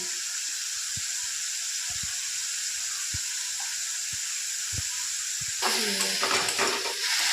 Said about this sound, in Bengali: মশলাটা একটু ভেজে নেব।